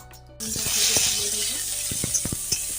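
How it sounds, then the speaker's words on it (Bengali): Eggplant slices hit hot mustard oil in a wok and burst into a loud, steady sizzle, with a few clinks and stirring clacks of the utensil against the pan close by. "এখন আমি তেলটা গরম হয়ে গেলে এখন বেগুনটা ভেজে নেব"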